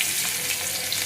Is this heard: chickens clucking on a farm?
no